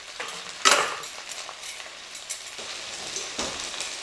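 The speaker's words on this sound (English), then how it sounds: "our spinach is cooking down pretty fast" Spinach wilts in a hot pan with a soft, intermittent sizzle, punctuated by a sharper hiss and light utensil scrapes and clinks, close and fairly quiet.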